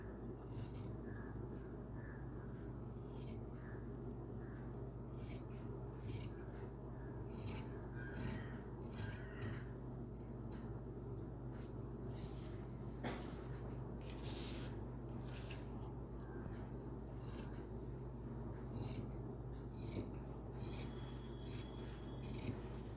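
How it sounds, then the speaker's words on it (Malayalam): Scissors snip through fabric while cutting the back piece of a smocked nightie, giving quiet, intermittent rasping cuts over a steady low hum, with no talking. "ആദ്യം നമ്മൾ ബാക്ക് പീസാണ് കട്ട് ചെയ്യുന്നത്."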